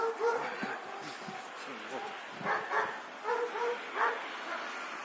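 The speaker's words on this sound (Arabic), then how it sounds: "ده كلب" A dog gives several short barks and yips in brief bursts, fairly faint and spaced irregularly across the moment.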